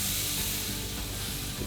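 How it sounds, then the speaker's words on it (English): Pork tenderloin sizzles on a hot grill with a dense, continuous hiss and crackle, close and steady throughout with faint clicking underneath. "to get that sizzle in between the grill marks"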